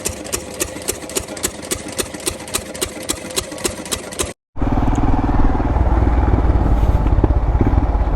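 A small diesel engine with its tank and tappets exposed idles with a steady, even knock for about four seconds, then cuts abruptly to a dense, roaring rush of noise.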